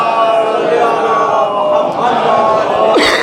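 A crowd at a Muharram majlis gathering loudly chants salawat in unison, a dense roar of many voices sustained for a few seconds close and loud.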